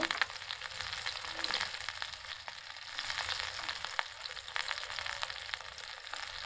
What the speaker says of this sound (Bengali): পেঁয়াজটাকে একটু সামান্য করে ভেজে নেব।